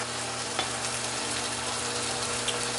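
Meat frying in a hot pan in a home kitchen, a steady close sizzle with dense crackle running throughout, a couple of brief utensil clicks over it, no talking.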